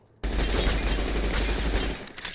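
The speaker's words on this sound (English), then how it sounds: "This is the Mac 10." Sustained automatic fire from a MAC-10 open-bolt submachine gun in Fallout New Vegas, a dense, rapid, loud burst of roughly two seconds that begins abruptly and cuts off with a short tail.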